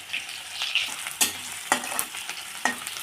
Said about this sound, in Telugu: ఆయిల్ వేడెక్కాక కొన్ని మెంతులు జీలకర్ర వేసుకోవాలండి పచ్చిమిర్చి కొన్ని ఉల్లిగడ్డలు వేయాలండి